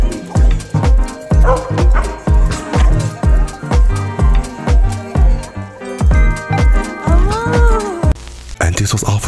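A dog whimpers and yips excitedly while greeting his grandparents after weeks apart, with rapid, rhythmic, loud, close cries repeating one after another and a higher whine near the end.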